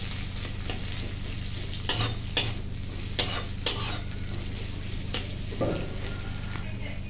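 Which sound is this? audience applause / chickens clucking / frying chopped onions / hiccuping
frying chopped onions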